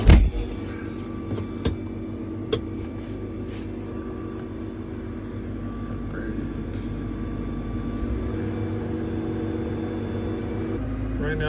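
A Fendt 1167 Vario MT tractor rolls out of the shop, its engine a steady, low, close drone that holds throughout after a few knocks and clunks at the start.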